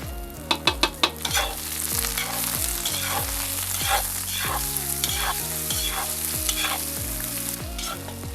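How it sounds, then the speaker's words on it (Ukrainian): Onion and smoked lard sizzle steadily in a hot cauldron while a utensil stirs and scrapes in a repeating rhythm, close and continuous, with a few sharp clanks at the start. "Цибуля з салом копченим смажиться орієнтовно хвилини 3."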